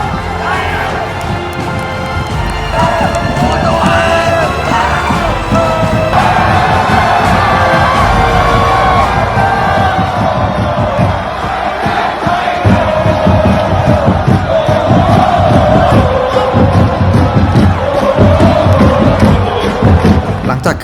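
Thai supporters roaring and chanting in a stadium during an AFF 2022 football match, a loud, dense crowd noise that holds for the whole stretch, with rhythmic chants and bursts of cheering swelling within it.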